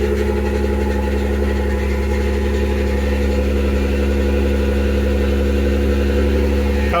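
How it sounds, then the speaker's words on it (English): A Jeep JK engine idles steadily and close by, a deep constant rumble with a whining power steering pump running low on fluid layered over it, with no pauses for the full seven seconds. "Power steering pump's going a little crazy up there because I dropped all the fluid"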